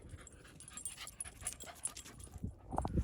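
A dog pants quickly and steadily, close and fairly quiet, on a woodland walk, with a few faint whimpers and rustles near the end.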